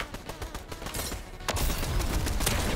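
Gunfire rattles in Fortnite, dense rapid bursts of shots that grow heavier and louder halfway through, sustained without pause.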